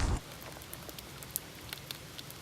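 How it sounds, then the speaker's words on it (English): Light rain falling outdoors, a faint steady hiss with scattered soft drops pattering on surfaces, after a brief louder thump at the very start. "And it's still kind of raining"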